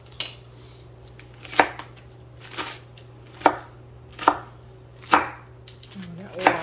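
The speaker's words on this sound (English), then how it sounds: "We got lots of chopping to do." A butter knife chopping through cheese on a cutting board for a viral grinder sandwich, giving six evenly spaced sharp knocks close by, with no talking.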